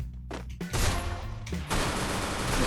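Video game gunfire crackles in dense bursts, a rapid volley, a short pause, then another sustained barrage of shots, loud and close.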